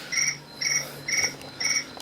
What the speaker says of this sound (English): Hang on, I'm going to shut off the crickets.